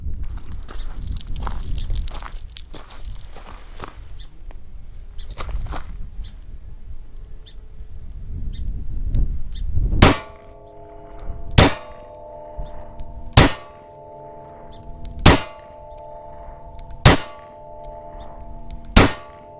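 Kimber K6S revolver firing six rounds of Fiocchi .357 Magnum at a range, sharp metallic cracks with ringing tails evenly spaced about two seconds apart, preceded by quiet handling noise.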